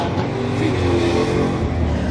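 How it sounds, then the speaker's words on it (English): A BMW G80 M3 fitted with downpipes drives by with a loud, raspy engine roar that holds close and strong throughout the moment. "That first one was a G80 M3, definitely had downpipes."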